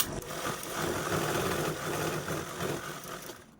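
A sewing machine runs steadily, stitching a folded seam in reused shopping bag fabric with a continuous mid-pitched whir that fades out near the end.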